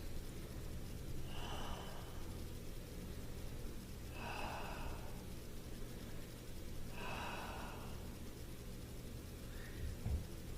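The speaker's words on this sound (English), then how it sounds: "3 deep breaths." Three slow, deep breaths, each a soft airy inhale-exhale several seconds apart, taken while holding a seated toe stretch, quiet and close over a low steady hum.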